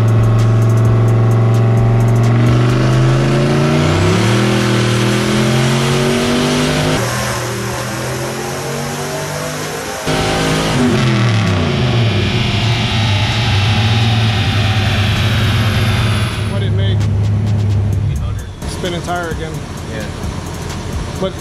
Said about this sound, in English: the tires are just spinning all over the place